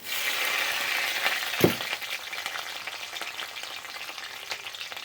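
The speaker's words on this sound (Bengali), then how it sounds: "তেলের মধ্যে দিয়ে দিচ্ছি কয়েকটা কাঁচা লঙ্কা চিড়ে।" Slit green chilies crackling in two tablespoons of hot oil, a dense continuous sizzle with one sharp knock of a utensil against the pan near the start of the second half; no speech.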